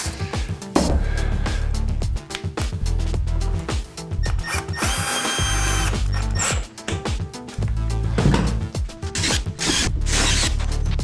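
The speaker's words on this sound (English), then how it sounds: "I'm going to join them all with these fat Conformat screws, which you have to pre-drill with this special drill bit" A power drill with a special bit pre-drills holes for Confirmat screws, whirring loudly in sustained bursts with brief stops and restarts, close and alone.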